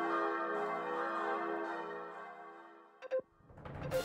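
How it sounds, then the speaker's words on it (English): Wedding church bells ring out in the farming game Story of Seasons, a sustained, loud, resonant peal that gradually fades, then a brief burst of sharper tones before other sound swells at the end. "Where the hell did all those bells come from?"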